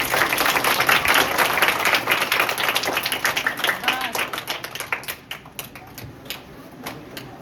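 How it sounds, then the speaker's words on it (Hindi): Schoolchildren at a school health program clap for visiting nursing students, a dense burst of applause that thins into scattered claps toward the end, with voices mixed in. "और दीदी लोग के लिए ताली बजा दो।"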